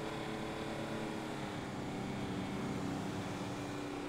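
Steady engine drone of a fast plane in flight in the GTA Online video game, a continuous propeller-like hum that stays loud and even throughout with no voices.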